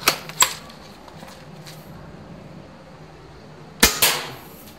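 Pellets from a dCobra M96 air gun strike a target in two sharp clusters of impacts, a pair of quick hits at the start and another pair near the end, with a quiet stretch between.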